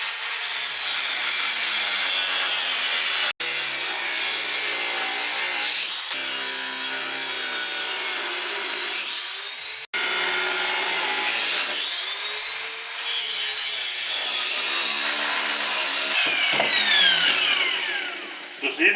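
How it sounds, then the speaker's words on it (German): A high, whining angle grinder cuts through a steel bolt, its pitch sagging as it bites, with two brief stops before it spins back up. "wir nehmen schnell die Flex und kappen."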